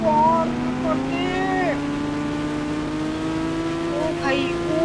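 Motorbike engine revving in a 3D Indian bike video game, a continuous rising whine with gliding pitch sweeps, while someone talks excitedly over it.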